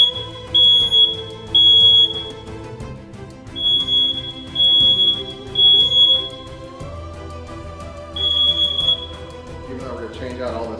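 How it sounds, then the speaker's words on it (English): A newly installed carbon monoxide detector in a hotel room under renovation sounds its test alarm: a piercing high electronic beeping in repeated bursts of about a second, with gaps between them, over background noise and some talk. "Test the new carbon monoxide detector."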